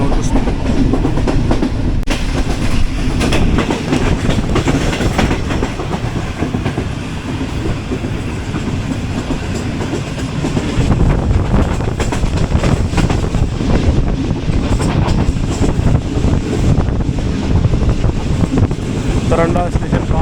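A passenger train running past Tarandah station, heard from on board as a loud, steady rumble of wheels and carriages with rhythmic clickety-clack and buffeting wind, continuous for the whole stretch.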